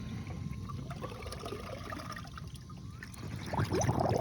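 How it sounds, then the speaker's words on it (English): Water trickles and gurgles steadily as a robotic pool vacuum fills beneath the pool's surface, with a burst of bubbling splashes near the end. "set it in the water and just like kind of keep it level and let it fill up with water"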